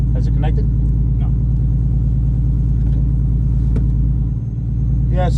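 A turbocharged VR6-swapped Audi A4 B5 idles with a loud, steady, deep rumble and even low pulsing, close up, while people talk briefly over it.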